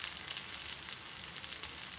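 Bangude mackerel fry in a pan with a steady, bright sizzle and crackle. It is moderately quiet and continuous, with no voices.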